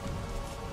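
Steady rain patters on surfaces in the Witcher 2 video game, a dense, even hiss with no other sounds over it.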